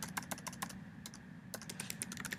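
Fast clicking of keys on a computer keyboard, close and fairly quiet, in quick irregular bursts with a short pause midway.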